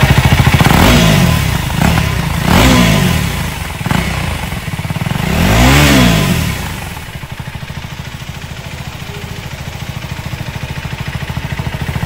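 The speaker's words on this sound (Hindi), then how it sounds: "तो इस नई वाली ड्यूक 390 का साउंड अच्छा है या पुरानी वाली का अच्छा था" A 2024 KTM Duke 390 OBD-2 motorcycle is revved sharply about four times in close succession, then settles into a lumpy, pulsing idle, heard close and loud.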